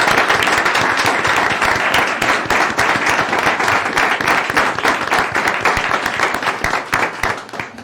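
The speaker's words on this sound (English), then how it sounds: "Let's give them a round of applause." Sustained applause from a city council meeting audience, dense clapping that holds steady throughout and tapers only slightly at the end.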